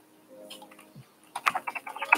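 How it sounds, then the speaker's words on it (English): Typing on a computer keyboard, a burst of quick, close key clicks in an irregular rhythm following a few faint scattered taps. "So I'm just like kind of just typing thoughts out."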